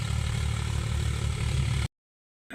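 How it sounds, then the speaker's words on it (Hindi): A tractor engine runs at a farm during wheat threshing, with a steady, close, low rumble and chugging idle for about two seconds before it cuts off abruptly. "हमारे ताऊ जी का ट्रैक्टर है, वही चल रहा है"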